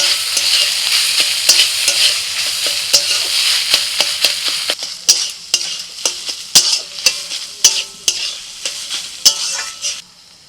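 Grated paneer stirred with vegetables, cumin powder, black pepper and salt in a hot frying pan: a steady sizzle under regular spatula scrapes and taps, the sizzle fading midway while the rhythmic stirring strokes continue up close.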